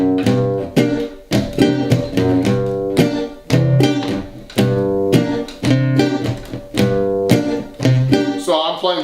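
Piano bass line with syncopated Charleston chords on top, a steady bouncing rhythm played alone, fairly loud and close.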